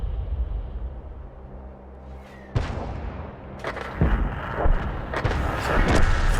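Heavy booming shots from a 105 leFH18B2 artillery gun in a video game on the Lasville map, sharp onsets, a few spaced blasts followed by rumbling and crackling, loud and close over a steady low background.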